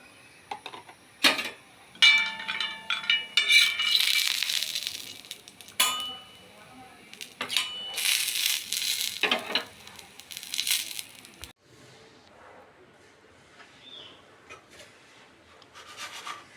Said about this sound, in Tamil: ஒரு தோசைக்கல்லை வச்சு அதில் கொஞ்சம் முந்திரி போட்டு கொஞ்சம் வறுத்து எடுத்துக்கலாம்